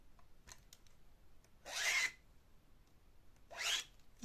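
Scissors trim the long edges of paper for a hand-sewn scrapbook binding, making two soft, rasping cuts separated by a pause, quiet and close, with no voices.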